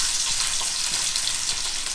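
Garlic dropped into hot coconut oil along with fenugreek and mustard seeds, sizzling and crackling as a steady frying hiss that runs close and continuous throughout, with no talking.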